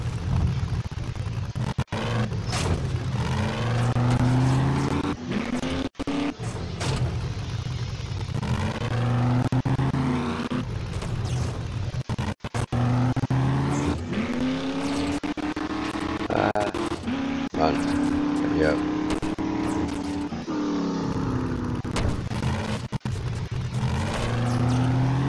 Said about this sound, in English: This area really isn't designed for a four-wheel drive.